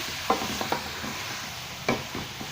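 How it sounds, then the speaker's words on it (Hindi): Cauliflower stir-fries with chicken curry masala in a pot, a low steady sizzle broken by a few sharp spoon scrapes and clinks near the start and middle. "गोभी मैंने इसमें डाल दी पूरी और अभी तो थोड़ा सा मैं भून लूँगी"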